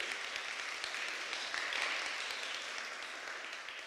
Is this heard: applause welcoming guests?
yes